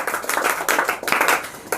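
A class claps together during a quiz lesson, with a run of quick, uneven handclaps that has brief dips and surges, fairly close and loud.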